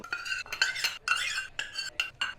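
Pitha batter of rice flour, flour and puffed rice being mixed in a bowl: a quick series of scraping, clinking strokes in short bursts, close and fairly quiet, with no voices.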